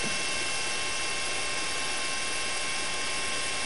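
A news helicopter hovers over a burning condominium building in Sendai after a magnitude 7.9 earthquake in northern Japan, its rotor and engine giving a steady, loud, dense roar that runs unbroken with no voices.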